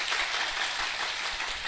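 A gathered audience at a religious talk claps in a dense, steady wash of applause that holds level and unbroken throughout.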